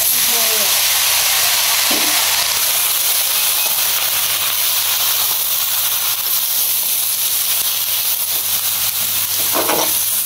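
Rice frying in a pan for a home-cooked ghonto dish, giving a loud, steady hiss and sizzle that runs unbroken throughout, with a couple of faint scraping stirs.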